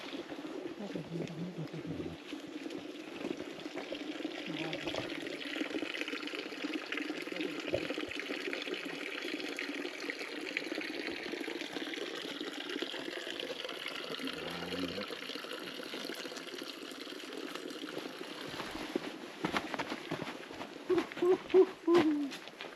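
Cold drinking water flows steadily near Manichud Dhap dam, a continuous, soft rushing pour with no break, and some brief clattering toward the end.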